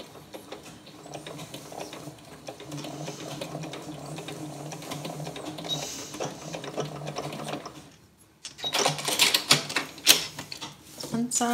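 A sewing machine stitches a vinyl project bag across a nylon zipper, running with a steady mechanical rattle under a voice, then a louder, sharper burst of stitching after a brief pause.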